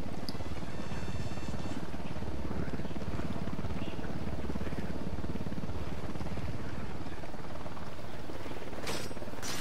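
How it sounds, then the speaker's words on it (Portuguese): A unit helicopter in the video game Ghost Recon Wildlands, flying over Caimanes, gives off a dense, steady rotor and engine rumble that fills the whole stretch, with a brief harsher swell near the end. "Helicóptero da unidade,"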